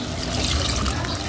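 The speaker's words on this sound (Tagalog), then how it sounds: "Lagyan ng tubig" Water pours into a cooking pot of odong noodles with sardines and patola, a brief, steady splashing trickle heard close and alone.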